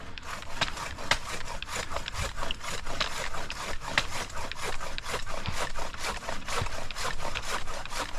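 A Stihl PP800 pole saw works through an oak branch during tree thinning, giving a steady, continuous rasping cut with quick repeated strokes. It stays loud and close the whole time, with no talking.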